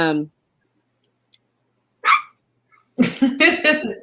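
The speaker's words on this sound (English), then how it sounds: "My dogs are barking." Dogs bark in short separate bursts, then a quick cluster of loud yaps close by, with a voice talking at the start.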